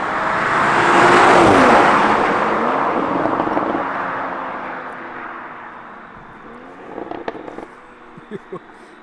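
A Toyota Supra A91 CF-Edition swells into a loud, close rev that rises and then fades, followed by scattered sharp pops and crackles as it trails off, with voices briefly present.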